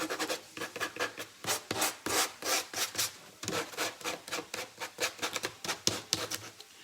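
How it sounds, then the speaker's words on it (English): A craft surface is scuffed by hand with quick back-and-forth rubbing strokes, a close, rhythmic dry rasping that pulses steadily without pause. "So I'm just going to scuff it up."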